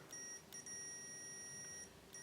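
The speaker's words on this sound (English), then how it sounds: "Not the loudest buzzer I've ever heard," Quiet electronic beeps from a LIDL Powerfix multimeter continuity buzzer sound in short bursts, a thin high-pitched tone starting and stopping several times over steady faint hiss.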